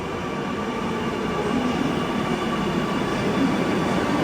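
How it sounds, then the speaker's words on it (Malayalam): A metro train arrives at a station, rumbling steadily and loudly close by, a continuous rolling roar with faint wheel hiss and no voices. "മെട്രോ വന്നിരിക്കുകയാണ്."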